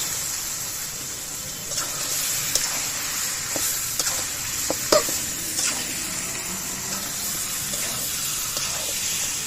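Chicken pieces hit a well-cooked spice masala in a pan and are stirred, giving a steady close sizzle with scattered scraping and clinking of the spoon against the pan.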